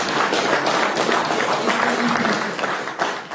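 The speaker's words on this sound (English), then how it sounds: "big round of applause for the young person in the room" An audience in a room gives a sustained round of applause for a young person, full continuous clapping with a few voices faintly audible beneath it.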